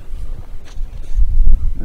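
Strong spring wind buffets a riverbank on the Minija during feeder fishing, low gusty rumble against the microphone rising and falling in close bursts.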